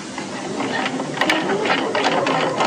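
A sewing machine stitches in the ditch along the seam of a bagged-out cuff on a gathered sleeve hem, a close, fast, even mechanical chatter running throughout.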